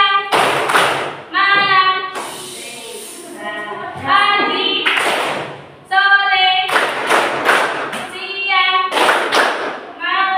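A classroom performs the tepuk clapping game, with a teacher calling out the cue words and the students answering in unison, then bursts of rhythmic hand claps.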